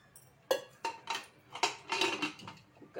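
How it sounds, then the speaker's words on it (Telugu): Metal pressure cooker lid being handled and set in place in a home kitchen while cooking Andhra-style sambar, a series of clattering metallic clanks and knocks close by, about six distinct hits over a few seconds with no talk. "కుక్కర్ మూత పెట్టేస్తాను."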